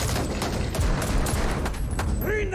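Gunfire from a Better Call Saul episode (season 4, "Talk"), a loud, dense, continuous volley of shots blurring together for a few seconds.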